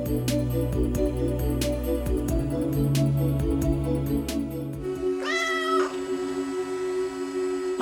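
A cat meows on a television broadcast, heard against steady background music and knocks, with a rising yowl near the end standing out clearly.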